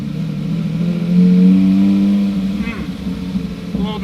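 A Lamborghini engine is given light throttle, its close, mid-pitched hum rising into a stronger steady drone for about a second before easing back down.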